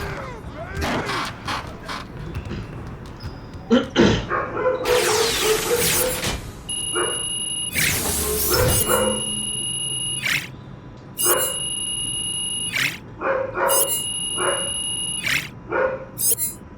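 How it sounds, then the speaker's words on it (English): A dog barks and yips in bursts, with squeals and whimpers between them, loud and close over electronic beeping tones and some indoor noise. "Why is my dog shouting?"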